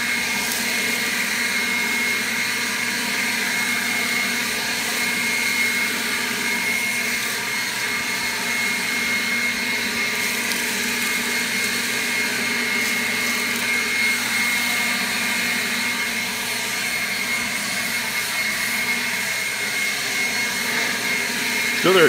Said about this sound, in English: This blower has quite a bit of power for only a 20-volt blower.